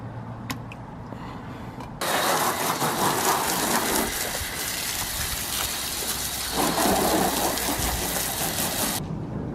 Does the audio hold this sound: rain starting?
yes